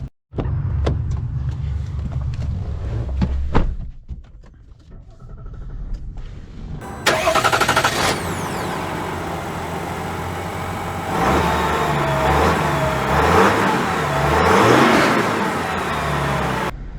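Chevy Silverado 1500 pickup, a few clicks and door sounds before the engine cranks and catches, then a steady close idle with rises of revving, loud and alone.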